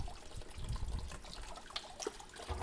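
Water runs from a single tap while seafood is rinsed, a steady faint splashing and trickling with small knocks and clatter, close by and without talk.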